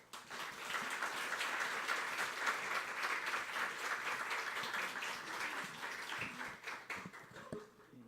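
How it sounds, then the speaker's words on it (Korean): A church congregation at a Korean-language service in Osaka claps to welcome the pastor to the stage, a full round of applause that holds steady, then breaks into scattered claps as it dies away. "우리 목사님 나오실 때 여러분 박수로 맞이해 주시기 바랍니다."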